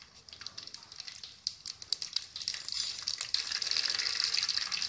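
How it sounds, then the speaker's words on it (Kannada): Mustard seeds hit hot oil and set off a rising, crackling sizzle with scattered pops, faint at first and growing denser and steadier toward the end. "ಎಣ್ಣೆ ಕಾದಿದೆ, ಸಾಸಿವೆ ಹಾಕೋಣ."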